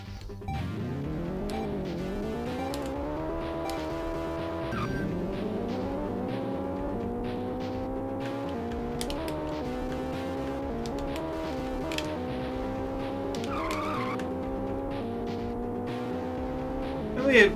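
A race car engine from the retro racing game Checkered Flag whines through repeated upshifts, its pitch sweeping up and dropping back, steady and loud throughout, with a voice talking occasionally.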